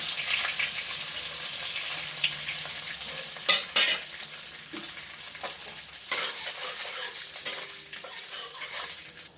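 Grated coconut frying in hot oil with asafoetida and peppercorns, a loud, bright, continuous sizzle close up, with repeated scraping stirs of a spoon against the pan and no talking.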